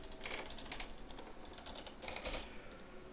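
Computer keyboard typing a folder name on a desktop, a few short bursts of quick key clicks with brief pauses between, close and fairly quiet, no talking.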